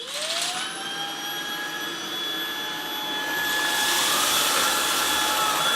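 A Shark DuoClean IF200UK cordless vacuum cleaner running on a rug at its carpet setting, a steady loud whine with a rising motor tone at start-up and a fuller roar as the faster brush roll works the carpet, no talking.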